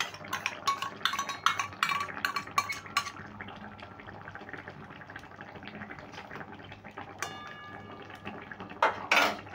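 A spoon scrapes and taps against a pan while stirring mixed sauces into chili paneer, a run of quick close clinks followed by quieter stirring and a few louder knocks at the end.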